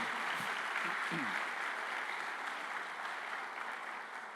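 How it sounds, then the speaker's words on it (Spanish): A church congregation claps for the Lord, a dense, steady wash of applause from many hands that fades slightly toward the end, with brief voices mixed in at the start. "Dale un aplauso ahora sí al Señor"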